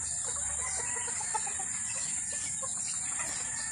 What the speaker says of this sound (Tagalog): Tingnan nyo po, ang mga manok na ito.